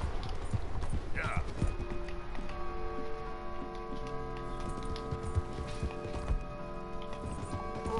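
Horse hooves clip-clop steadily through a busy video game soundscape, with a brief whinny early on and other effects layered around them.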